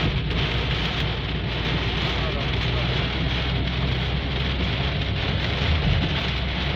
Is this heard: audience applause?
no